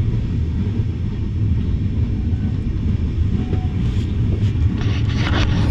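Steady low rumble and rattle inside a moving passenger train in northeast India, continuous and fairly loud throughout, with a few faint higher clicks and squeaks near the end.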